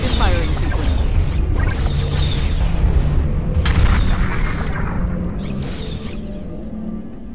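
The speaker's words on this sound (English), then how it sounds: "Commencing automated firing sequence." Spaceship automated weapons firing in the space game Starpoint Gemini 2, a steady barrage of booming, crashing blasts layered over a dense rumbling battle din, loud throughout with talk running over it.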